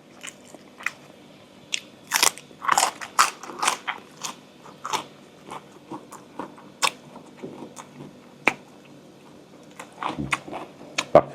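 Crunchy bites and chewing of Thai chili paste eaten with omelette, a dozen or so sharp, close crackling crunches in an irregular rhythm with quiet gaps, no talking.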